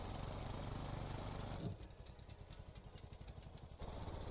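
A vehicle engine in the Stormworks video game revs loudly, then drops to a rapid, rhythmic chugging idle before surging back up near the end, with no talking.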